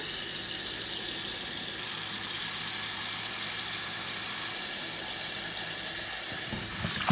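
A kitchen tap runs in a steady, close hiss while oxtail is rinsed under it with vinegar, the flow growing slightly stronger partway through and continuing without any talking.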